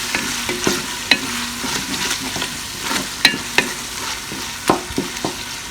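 Tomatoes fry for keema matar in a pan, a loud close sizzle broken repeatedly by sharp clacks and scrapes of a spoon stirring and mashing throughout.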